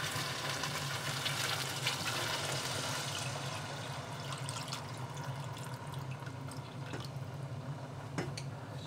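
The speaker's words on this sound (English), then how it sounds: "Now we're going to add 1/4 liter of water or 1/2 pint of water" Water pours steadily into tomato sauce in a pan while vegan koshari is being made, a continuous soft splashing stream heard close with no voices throughout.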